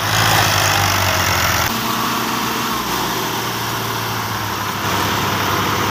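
Steady engine drone of tractors waiting at a sugar mill, a continuous near idle with a low throbbing hum that holds level throughout, with no talk over it.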